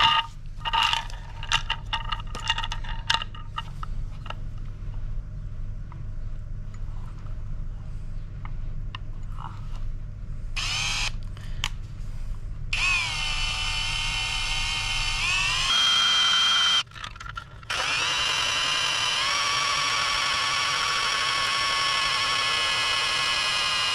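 A 32mm hole saw cuts into a plastic kayak cover, starting with scraping and clicking handling noises, then a sustained high-pitched whining drill-and-grind that pauses briefly and resumes loud and steady.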